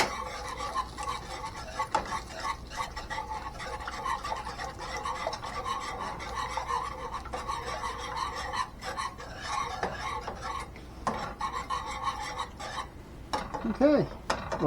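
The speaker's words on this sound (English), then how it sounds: "mix this real well." A spoon stirs Manwich sauce in a cooking pan with steady, close scraping and rasping. The sound continues for the whole stretch in a busy, even rhythm, with no clear talk over it.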